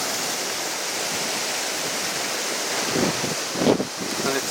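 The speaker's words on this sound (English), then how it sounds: "there's so much water that it's actually overflowing" Reservoir water spilling over and rushing through a channel near Littleborough makes a steady broadband roar, with wind buffeting and some louder gusts or footsteps near the end.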